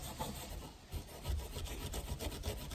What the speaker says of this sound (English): just enough to degloss it and put a little bit of scratches in your roof.